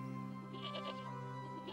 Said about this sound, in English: One of my sheep has fallen down there, but I can't get her out because it's now the Sabbath.